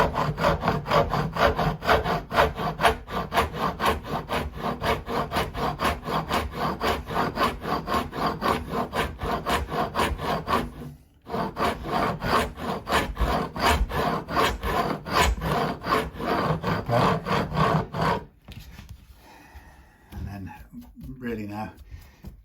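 A metal file cuts vertically across the new fret ends of a Stratocaster-style partscaster during a re-fret, making a steady run of rhythmic rasping strokes close up while someone talks over it; the strokes pause briefly midway.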